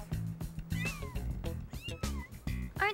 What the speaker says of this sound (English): Thomas's cat had kittens.